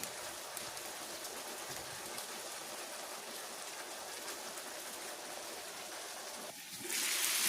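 Seasoned chicken with sauce and freshly cut seasoning sizzles in an electric skillet during Jamaican-style cooking, a steady, dense crackling hiss that runs unbroken and swells louder near the end, with no voices.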